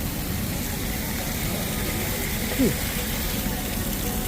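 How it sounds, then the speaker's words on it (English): Waterfalls on the Roaring Rapids river raft ride at Six Flags Over Texas pour in a steady, broad rushing wash that fills the whole stretch, with a faint voice and a brief bump partway through. "the Roaring Rapids has the waterfalls running"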